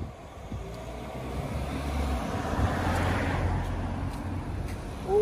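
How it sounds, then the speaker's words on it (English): An Audi Quattro car drives past on a Luxembourg City street, its engine a steady, broad rumble that swells gently and then holds amid general traffic noise, with no one speaking. "that's an Audi Quattro"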